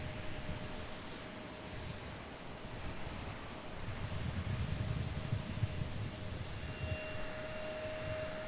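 A jet airliner, an Airbus A319, arrives at Raleigh-Durham International Airport in stormy weather. It makes a steady broadband roar with a low rumble that swells in the middle, heard from a distance under gusty wind noise.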